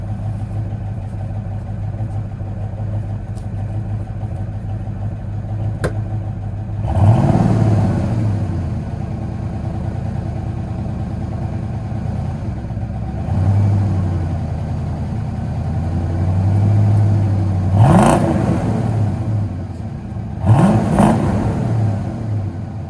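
A cheap Ford Fox Body Mustang engine idles steadily, then is blipped in several short throttle revs that swell and fall back to idle, the sharpest near the end, close and with no talking.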